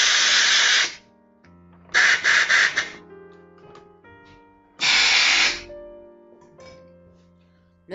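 Cleaner sprayed onto a car fuel filter from a GTI in three loud, close hissing bursts of about a second each, with quieter workshop clatter and faint tones between them.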